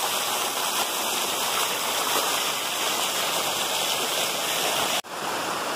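A waterfall on the Appalachian Trail at the Hardcore Cascades, heard as a steady, loud rush of falling water that fills the whole scene without pause.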